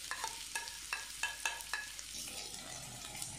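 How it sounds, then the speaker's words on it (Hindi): Chopped onion goes into hot cooking oil in a pan, giving a quiet sizzle with a few light clinks and stirring taps near the start. "ऑयल को गर्म कर लेंगे और इसमें कटी हुई प्याज ऐड कर देंगे।"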